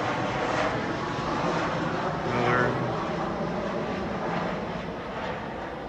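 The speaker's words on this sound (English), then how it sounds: "And coming in, got Cessna 560 XL Citation" A Cessna 560 XL Citation business jet approaching to land near Chicago Midway gives a continuous engine roar that swells briefly in the middle, with a whining tone, and a voice talks faintly over it.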